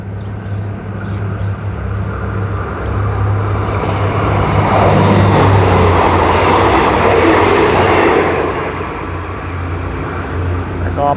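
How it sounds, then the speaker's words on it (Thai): Train 71 from Bangkok Aphiwat to Ubon Ratchathani rumbles loudly through Sung Noen railway station, Nakhon Ratchasima, swelling as it passes close by and then fading, with wheels clattering over the rails. "ตอนนี้ก็มีมาอีกหนึ่งขบวนนะครับ ขบวน 71 กรุงเทพอภิวัตรอุบลราชธานี ผ่านสถานีรถไฟสูงเนินนะครับผม"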